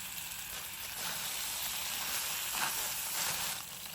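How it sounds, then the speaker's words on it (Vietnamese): Lemongrass stem bases fry in oil until golden, giving a continuous, even sizzle with faint crackles, close and unaccompanied by talk. "Cái gốc sả thì mình phi cho vàng"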